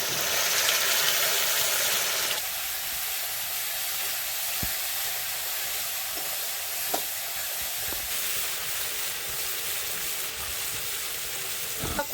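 A steady sizzle of spice paste of turmeric, cumin paste, green chili paste and salt frying in a hot pan, with a few soft clicks and taps from stirring, continuous and fairly close.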